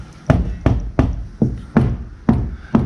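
A car door fitted with Dynamat Extreme sound deadener shuts seven times in a steady rhythm, each a solid, dull thump with little ringing afterward.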